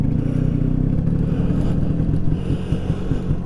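A 1979 Vespa scooter engine pulls away in first gear on a ride, giving a loud, close, steady putter and rumble with a faint rise in revs.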